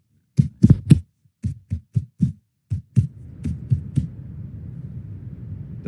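Rhythmic throbbing heartbeat pulses coming from a character's head in Final Fantasy XVI, loud paired thumps at first, then fading into a steady low rumbling hum with softer beats.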